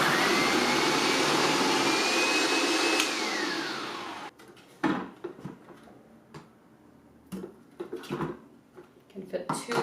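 A Hamilton Beach Stack and Snap food processor whines loudly as it slices, the motor pitch sliding up and then dropping as it shuts off. Clattering handling noises and a voice follow.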